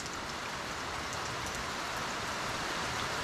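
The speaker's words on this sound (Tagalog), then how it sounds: "Naabot tayo ng ulan." Steady, heavy rain pours down in a continuous hiss, close and loud throughout, with no voices.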